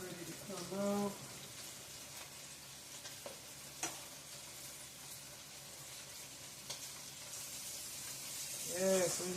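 Fish crisps in a pan with a soft, continuous sizzle and occasional stirring clatter, as a voice speaks briefly at the start and end.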